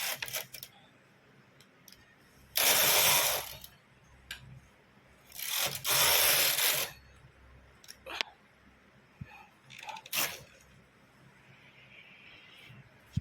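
A hand-operated knitting machine's carriage sweeps across the needle bed while working sweater button band rows, giving two loud, sustained rasping passes followed by scattered clicks and a shorter pass, with faint background noise.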